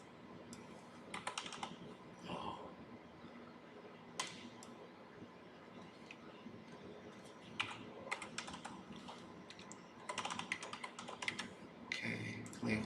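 Keys tapped on a computer keyboard while a number is entered in a CAD modeling program, irregular clusters of light clicks with short pauses, fairly close and alone without speech.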